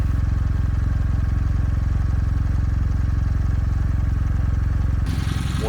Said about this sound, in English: Exhaust sound while sitting on the bike.